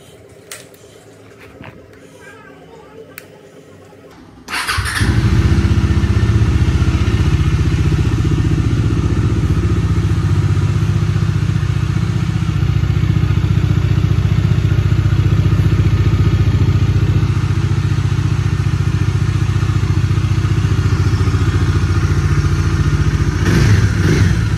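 Bajaj Dominar 400 motorcycle engine fires up after a home service with oil, coolant and filter changes, then settles into a loud, steady idle with a low rumble that continues unbroken to the end, no talking.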